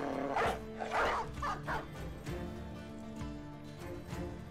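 Dog barking in the Battle Brothers video game, a few loud close barks and yips near the start, then fading whimpering sounds over a steady background.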